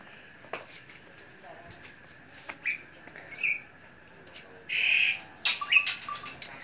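A myna bird gives several short squawks and whistled calls at irregular intervals, close and fairly loud, against a quiet background with occasional faint sounds.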